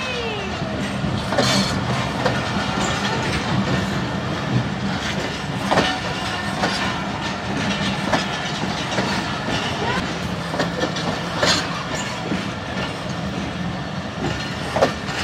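Train departing from a station in Gujrat, Pakistan: steady rolling rumble with clickety-clack of wheels over rail joints and occasional metallic squeals, heard moderately near over about fifteen seconds, faint voices in the background.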